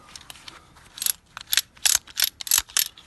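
A used factory-made winch lift mechanism cranked by hand, a series of close, bright ratcheting clicks and gear rattles in uneven bursts, growing busier toward the end.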